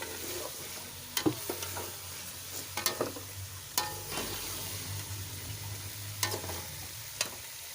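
Pumpkin and lentil mixture sizzles in a frying pan while a spoon scrapes and stirs it, sharp clinks recurring every second or so over a low, steady frying hiss.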